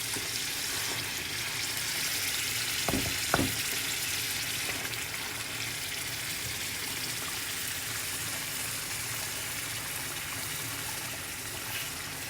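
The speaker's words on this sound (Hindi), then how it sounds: "अब इसमें चिकन डाल देंगे।" Chicken frying in a pan for korma, a steady sizzle throughout with a couple of brief clinks partway through, no voices.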